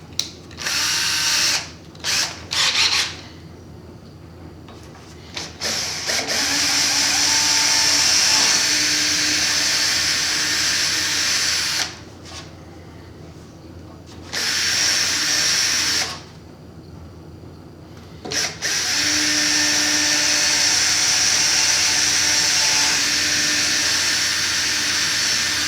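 Power drill boring holes into a cross-country skate ski for Salomon SNS bindings, several loud whirring bursts separated by short pauses, close up with no talking.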